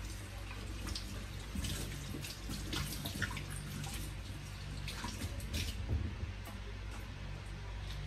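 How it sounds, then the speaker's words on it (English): Water runs steadily from a kitchen tap while a spoon is rinsed under it, a continuous close splashing stream with faint clinks and drips over a low background hum. "going to wash my spoon"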